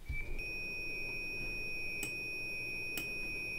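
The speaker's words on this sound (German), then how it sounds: "Die Türen piepsen, aber sie wollen sich nicht schließen." Steady high-pitched electronic door warning tone from a train in Train Simulator 2022, sounding continuously at moderate level with a couple of brief clicks partway through, no talking.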